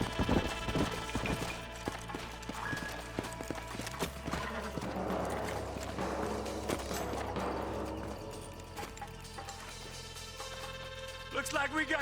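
Horse hooves clip-clopping in the video game Red Dead Redemption, a steady rhythmic trot from several horses close by, with an occasional whinny, mixed with game music and a voice at times.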